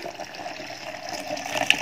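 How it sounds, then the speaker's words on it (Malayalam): The remaining water is poured into a lime juice mixture, giving a brief, close, steady splashing pour at moderate loudness with no voices. "പിന്നെ നമുക്ക് ബാക്കി വെള്ളം കൂടെ ചേർത്ത് കൊടുക്കാം"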